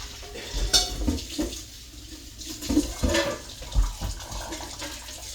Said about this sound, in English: trying to get my skillet to not be so hot so I can set it in my sink.